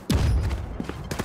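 A grenade explosion in a competitive video game: one heavy, close, low boom that decays quickly, followed by a few smaller thuds.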